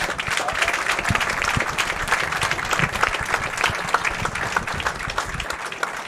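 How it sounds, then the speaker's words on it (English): Spectators at a PBA bowling tournament finals applaud the finalists with steady, crisp clapping that carries throughout, with individual claps standing out and some crowd voices underneath. "How about a nice round of applause for all of our finalists,"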